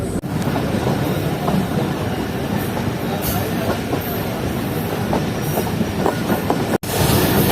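The Shah Latif Express runs on the rails as it enters Mirpur Khas in Pakistan: a steady, close rumble with rhythmic wheel clatter over the joints and some wind buffeting, with no voices.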